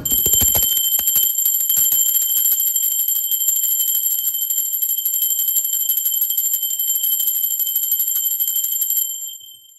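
A bright, sustained bell rings continuously with a loud metallic tone and shimmering overtones, then cuts off near the end.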